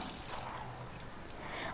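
Half a litre of milk poured from a container into a bowl set on a stove for a sweet coconut-milk kolukattai, a soft, steady, fairly quiet stream lasting under two seconds.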